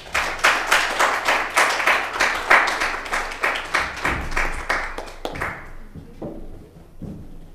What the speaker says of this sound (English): So if you'll help me giving Anna a warm round of applause.